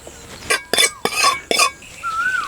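A spoon scrapes and clinks against a bowl as cooled tempering is mixed into grated raw mango for pickle, with four short bursts of stirring close by and a brief thin tone near the end.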